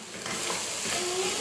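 Rice stirred through melted ghee in a pressure cooker, giving a steady scraping stir over a soft, continuous sizzle, close and moderately loud without a break.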